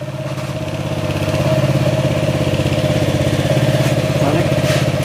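A motorcycle engine idles steadily after a home-service repair, a close, even mid-pitched rumble with light mechanical clatter that swells slightly and holds without revving.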